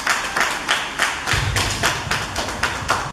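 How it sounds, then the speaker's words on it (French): Rhythmic applause at a social gathering's ceremony, a crowd clapping in steady, unified beats about three times a second, loud and close, with a low thump underneath partway through. "Acclamation."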